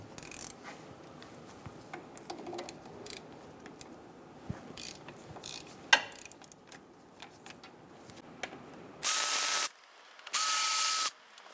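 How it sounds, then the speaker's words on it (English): A hand socket ratchet clicking as it loosens 14mm brake caliper bolts on a 2010-2014 Subaru Outback, faint quick clicks in a quiet garage, followed by two loud steady bursts of sound near the end. "remove the caliper bolts"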